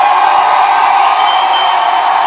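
A large rally crowd for Kamala Harris cheers and whoops in a steady, dense roar that holds at full volume throughout, with no single voice standing out.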